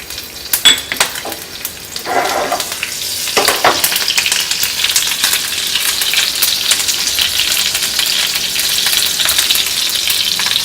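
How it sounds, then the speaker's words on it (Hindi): Cumin seeds and green chillies sizzle in hot oil in a heated pan for paneer bhurji, opening with a few clinks and stirring scrapes before settling into a steady, close crackling fry. "पैन हमारा गर्म हो गया है, हम ऑयल डाल देते हैं। जीरा और हरी मिर्च,"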